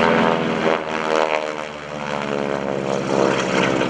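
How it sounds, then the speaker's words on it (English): A North American Texan propeller airplane at an airshow, its radial engine droning loudly and continuously with a throbbing, buzzing tone close by for the whole stretch. "Cameras on the North American Texan."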